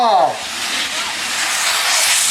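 A Thai bang fai talai spinning rocket launches with a rising whistle at the start, then a steady, loud broadband hiss that carries on throughout, with no talk over it.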